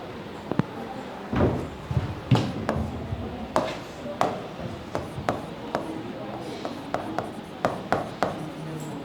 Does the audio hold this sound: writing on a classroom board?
yes